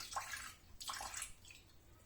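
Liquid tipped out of a jar of fermenting vegetables in two short, faint splashing pours a moment apart, with soft trickling and dripping between and after.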